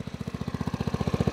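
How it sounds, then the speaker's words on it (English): Icebear Maddog Gen V scooter with a GY6 150 single-cylinder air-cooled engine idling close by, a steady rapid putter of evenly spaced exhaust pulses with no talk. "Gen 5 by Icebear with the GY6 150 single cylinder air-cooled"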